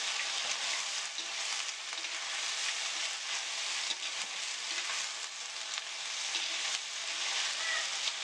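Small crabs sizzle and crackle steadily while frying in a pan for a Kerala-style crab dish, a dense, even hiss with soft stirring scrapes running throughout and no talking.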